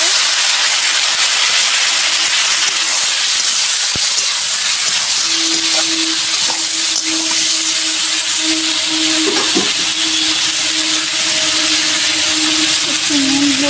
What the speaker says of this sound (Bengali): এবার নেড়ে দেবো। একটু সামান্য জল দেবো।